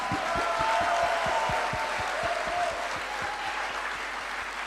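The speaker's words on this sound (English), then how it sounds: "Can you please give him a big round of applause," An audience at a weekend seminar breaks into a steady round of applause, dense clapping sustained throughout at an even, moderately loud level.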